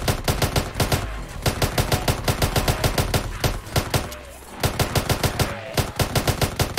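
Rapid bursts of automated sentry gun fire at zombies in a Minecraft zombie apocalypse mod, loud and close, in quick regular volleys that pause briefly twice.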